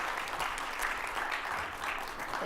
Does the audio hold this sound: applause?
yes